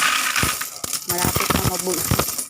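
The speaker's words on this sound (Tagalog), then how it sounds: "Malapit nang mapuno yung isang balde ko. Puro tong barya. Puro to 20 piso." A handful of 20-peso coins drops into a bucket that is nearly full of coins. Loud metallic clinks and jingles come in a rapid scattered series, close up.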